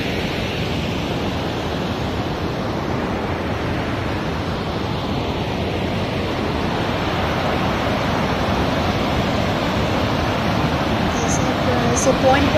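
A waterfall pours down below a high viewpoint, making a loud, constant broadband rush of falling water that fills the whole clip without letting up.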